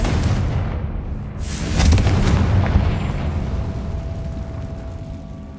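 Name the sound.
Confringo spell explosion in a Harry Potter video game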